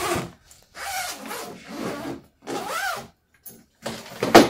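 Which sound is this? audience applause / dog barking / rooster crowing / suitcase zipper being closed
suitcase zipper being closed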